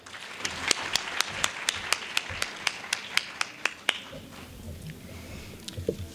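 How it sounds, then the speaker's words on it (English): A few people clap in a slow, sparse rhythm for the band at an indoor soccer cup evening event, about a dozen distinct claps that stop midway, followed by near quiet. "please give them a round of applause"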